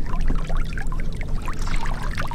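A musky splashes and sloshes as it is lowered back into Green Bay water from a boat, a close, moderately loud burst of churning, pouring water lasting a couple of seconds.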